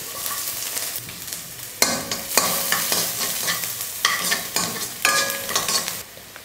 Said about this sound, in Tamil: அதே எண்ணெயில் ஒரு 6-7 பூண்டு பல்ல பொடியாக கட் பண்ணியிருக்கே சேர்த்துக்கலாம்.